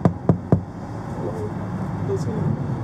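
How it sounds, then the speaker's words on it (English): Three sharp, evenly spaced knocks on a door at a property with abandoned cars, close and loud, followed by a quiet ambient hush. "I can give them a knock, see, they might let us in."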